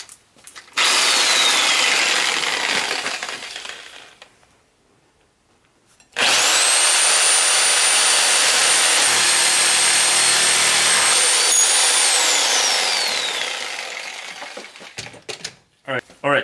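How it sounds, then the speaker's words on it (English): A reciprocating saw cuts through a brake chamber push rod on a 2005 Freightliner school bus in two loud bursts, one from about 1 to 5 seconds and a longer one from 6 to 15 seconds, with harsh buzzing and a steady high whine. "So now I'm gonna use this sawzall to cut the push rod."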